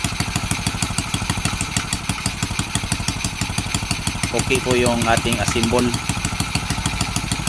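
A Honda XRM 110cc motorcycle engine idles with a steady, rapid, even thumping that stays loud and close throughout, while someone speaks briefly over it partway through.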